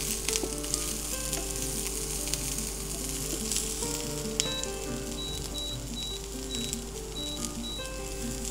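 Onions and cabbage sauté in a pan for vegetable spring rolls, giving a steady, close, continuous sizzle, with a faint repeating beep in the later part.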